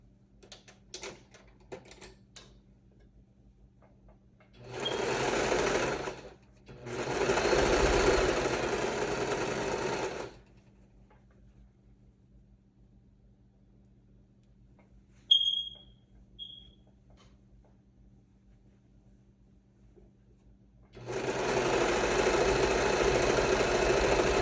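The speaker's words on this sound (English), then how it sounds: "So I'm going to sew down both side seams." A sewing machine stitches the side seams of a custom sublimated bodysuit, running in three loud sustained bursts separated by pauses, with a brief mechanical click between them.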